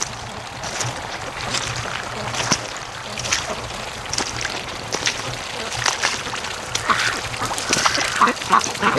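Free-range breeder ducks quack at a creek, a loose irregular chorus of nearby calls with scattered splashes and bumps throughout.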